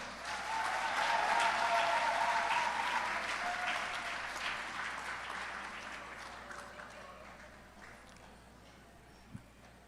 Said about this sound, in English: You deserve a hearty round of applause.